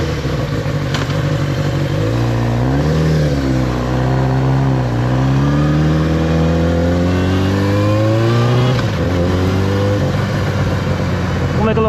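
A Yamaha R6 sport bike engine drones loud and close, its pitch rising and falling through several revs and gear changes as it rides, with wind rushing over it.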